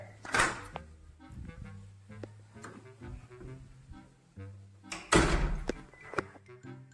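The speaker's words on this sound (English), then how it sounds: "let me shut this door here." A door swings shut with a solid thunk, followed by a second heavier thud a few seconds later, in an indoor room on a hot 35-degree day, with low background hum between the impacts.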